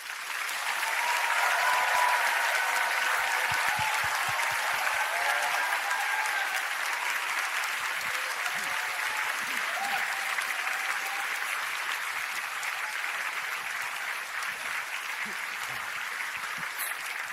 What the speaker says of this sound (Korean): 목사님 나오실 때 젖 먹던 힘을 다해서 천둥 같은 박수로 맞아주시기 바랍니다